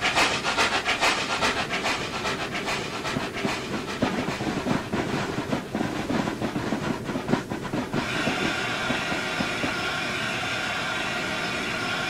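A Class A4 steam locomotive runs on rails at speed between London and Brighton, giving a loud continuous roar with rapid rhythmic clicking of wheels over rail joints that eases into a steadier rushing hum.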